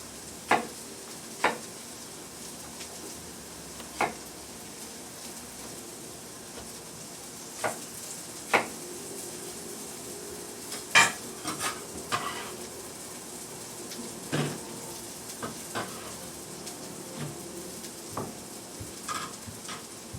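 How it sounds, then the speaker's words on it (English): Onions and garlic sizzle steadily in a pan, a low, even frying hiss broken by scattered scrapes and clicks of a utensil stirring, close and quiet, with no talking. "Now I have to stir up the onions and the garlic."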